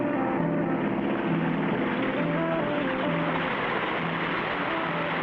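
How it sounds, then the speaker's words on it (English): A loud, steady seaplane propeller engine drones continuously on the water against a swift current, with a buzzing mechanical roar and a wash of rushing water underneath. "We'll keep the engine running to force us against the current"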